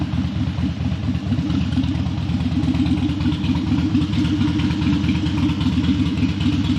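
A Harley-Davidson Dyna motorcycle engine runs steadily at idle, a loud, close, low throbbing rumble with a fast rhythmic pulse and no talking over it.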